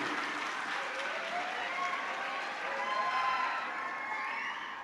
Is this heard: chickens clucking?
no